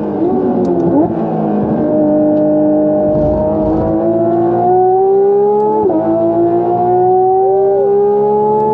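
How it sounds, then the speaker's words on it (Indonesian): Porsche GT3 and GT3 RS race cars roar loudly and continuously through the final corner and final lap, their engines climbing in pitch with several gear-shift dips along the way. "Memasuki tikungan terakhir dan terlihat GT3 RS mendekati GT3."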